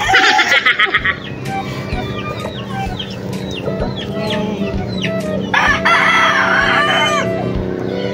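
A pure white Kelso broad stag rooster crows several times at close range, each harsh call rising and trailing off, with clucking and scattered farmyard noise in between and no talk.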